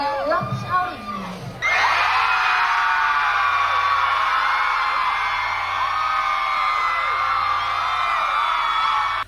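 After a brief moment of talk, a concert crowd erupts into a loud, sustained wall of screaming and yelling that holds steady at full volume until the end.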